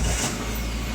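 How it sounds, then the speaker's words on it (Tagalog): A car engine starts with the gearbox in neutral, then runs loud and close in a continuous throaty roar. "nag-start ang ating makina"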